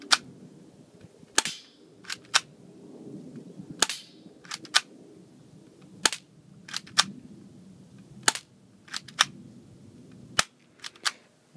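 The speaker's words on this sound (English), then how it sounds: "here we can see a close up of a gun in action" Cybergun SIG Sauer P226 airsoft pistol fires about a dozen sharp, snappy shots at irregular intervals, close and loud over a quiet background with no talking.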